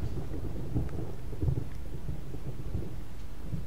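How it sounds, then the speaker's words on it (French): A thunderstorm in the video game Resident Evil HD Remaster: continuous low rumbling thunder and hissing rain, dense and steady throughout, with no speech. "l'orage."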